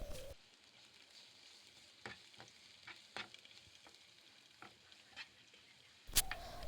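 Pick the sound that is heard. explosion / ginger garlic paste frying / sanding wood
ginger garlic paste frying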